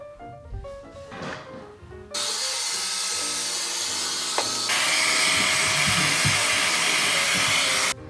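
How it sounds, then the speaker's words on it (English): A handheld blow dryer drying hair switches on after a short quieter lead-in, then roars with a steady, close, loud airflow that briefly changes pitch partway through before cutting off at the end. "I put the blow dryer underneath and I'll let it go out like that"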